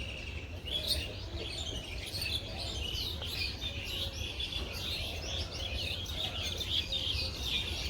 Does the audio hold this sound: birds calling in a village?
yes